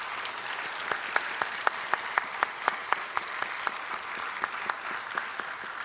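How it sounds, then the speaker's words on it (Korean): Congregation clapping in a church service to honour retiring elders and deacons, a dense steady applause with sharp individual claps standing out, moderately distant and sustained throughout. "인사할 때 여러분 큰 박수로 축하해 주시길 바랍니다"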